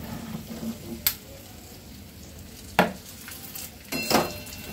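A spoon stirs a laddu mixture with ghee in a pan, producing soft sizzling and scraping with three distinct louder scrapes against the pan.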